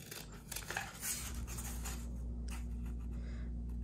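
Scissors snip through paper during a children's lantern craft, giving several close, crisp cuts and rustles in a quiet room with a steady background hum.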